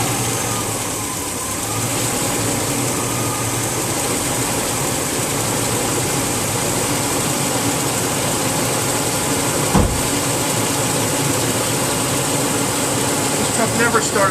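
A Chevy Vortec engine idles steadily and fairly loud just after starting, a low, even rumble holding for the whole stretch with one brief thump partway through.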